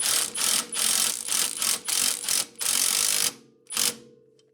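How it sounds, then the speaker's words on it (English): Impact wrench driving a suspension bolt tight on a Honda Accord during lower control arm bushing replacement, firing in a run of loud, close bursts of hammering rattle, then a pause and one final short burst. "Now we can tighten it up. And seeing as we have the impact right here"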